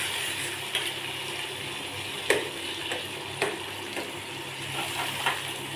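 Dried red chillies fry in a pan with steady close crackle and sizzle, punctuated by a few sharp ticks and taps of stirring; no voice is present.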